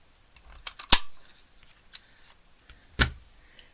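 Scissors snip through paper while a banner is trimmed, with two sharp, loud cuts and a few softer snips and rustles between them, close by and with no talk.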